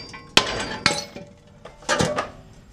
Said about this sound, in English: So I'm going to just hammer it.